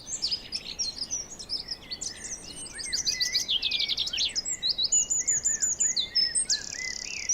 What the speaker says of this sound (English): The trees are alive with a chirping song contest.